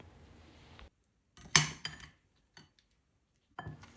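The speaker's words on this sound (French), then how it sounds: "Ajoutez les fraises au fromage mascarpone et mélangez le tout." A utensil clinks and scrapes against a bowl while strawberries are folded into mascarpone cheese, a few sharp close knocks separated by near silence.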